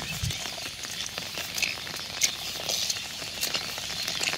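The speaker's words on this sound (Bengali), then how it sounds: "এরকম বৃষ্টি শুরু হয়েছে।" Steady drizzling rain falls continuously since before dawn in a village, a soft even patter and hiss with occasional louder drops, close by and with no talking.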